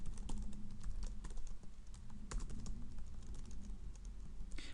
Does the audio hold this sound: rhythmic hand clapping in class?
no